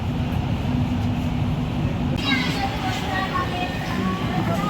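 An Ahmedabad metro train runs with a steady low rumble and hum that persists throughout, while faint higher whines and squeals rise in the second half of the ride.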